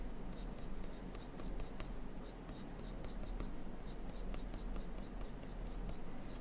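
Polychromos colored pencils stroking across paper, a steady close scratchy scribbling that continues throughout with quick rhythmic back-and-forth strokes.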